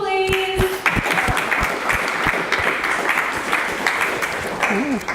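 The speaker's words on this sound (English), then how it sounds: "can we get another big round of applause for Nicole, please?" Sustained applause from an audience for a speaker at a university speaker series event, with a few sharp individual claps standing out near the start, continuing steadily to the end.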